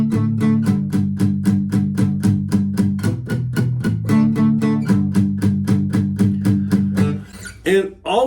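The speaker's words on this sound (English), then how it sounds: "all we're doing there is we're down strumming" Acoustic guitar down-strummed in a steady even rhythm, lightly palm-muted, with a chord change midway and a ringing stop near the end, close and clear with no talking.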